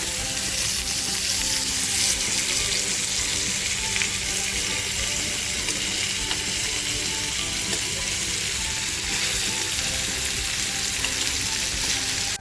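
Surmai fish fries in hot oil, a steady close sizzle with bright crackling spatter that holds evenly throughout, no voices.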